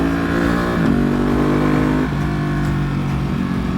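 A Ducati Panigale V2 Troy Bayliss edition motorcycle with an aero exhaust, loud and close under way, its engine holding a steady drone and stepping through two or three gear changes.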